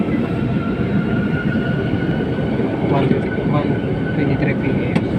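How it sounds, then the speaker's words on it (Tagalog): An LRT light rail train runs in Cubao, giving a steady, loud rumble with rail noise throughout while a voice talks over it. "Kakaandar lang po ng LRT."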